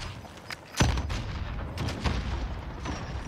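Gunfire in the video game Call of Duty Warzone: a sharp shot near the start followed by a few quieter bursts of shots over a busy game-noise background.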